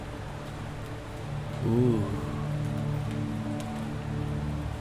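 Steady rain hiss in the indie video game Amygdala: Prelude, a continuous soft patter over its ambience, with a brief vocal exclamation partway through.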